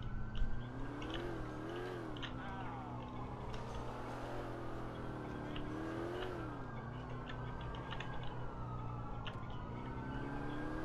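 A police siren in Grand Theft Auto IV wails continuously, rising and falling in long sweeps over a steady engine drone, loud and unbroken throughout.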